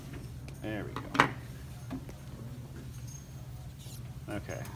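Small squeaks from an isopropyl alcohol wipe rubbing over a surface to clear glue residue, a few short chirps close by over a steady low hum.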